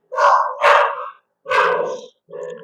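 Dogs barking outdoors, three or four loud separate barks with short gaps between them and no talking.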